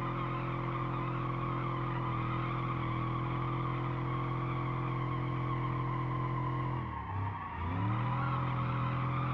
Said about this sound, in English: I wanna do some burnouts. So let's rev it up here and let's send it.